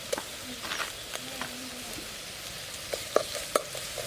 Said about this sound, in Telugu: మాడిపోకుండా కలుపుకోవాలి